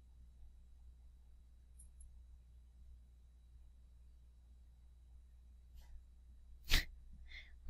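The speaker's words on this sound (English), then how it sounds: "My dog just walked out in the hallway and sneezed for some reason." A dog sneezes once in a hallway, a single sharp close burst after a long quiet stretch, followed by a faint snort.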